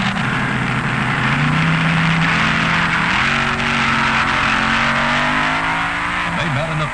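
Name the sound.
drag racing dragster engine run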